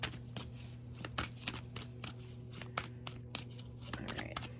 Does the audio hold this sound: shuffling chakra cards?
yes